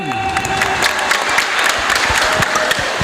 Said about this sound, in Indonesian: Sekali lagi tepuk tangan buat Haji Erwin.